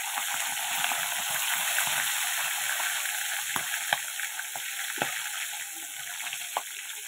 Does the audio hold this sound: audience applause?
no